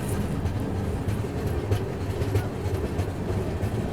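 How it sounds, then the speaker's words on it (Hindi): Gitanjali Express, a superfast train between Howrah and Mumbai CSMT, rumbles steadily past Nandgaon at close range. The rail noise is loud and continuous, with a low roar and clattering from the wheels throughout. "यहाँ पर अपनी गीतांजलि एक्सप्रेस दोस्तों नंदगांव स्किप कर रही है"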